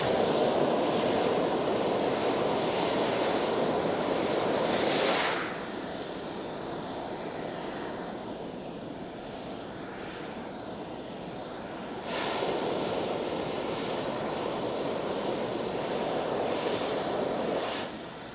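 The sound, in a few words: SpaceX Super Heavy Booster 7 venting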